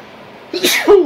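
A single sharp, close sneeze bursts out after near silence, with a quick intake and a forceful, noisy release.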